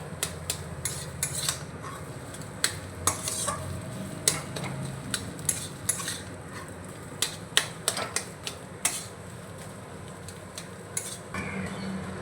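A spatula taps and scrapes a pan repeatedly while a potato and spice filling is sautéed, with sharp clicks in an uneven rhythm over a low, steady sizzle.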